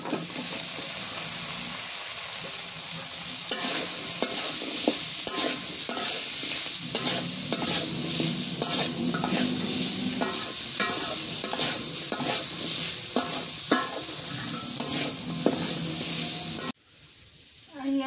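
Potatoes sizzle in spice masala in a village kitchen pan, stirred constantly with a rhythmic scrape and clatter over a loud steady fry, before the sound cuts out abruptly near the end; no talking.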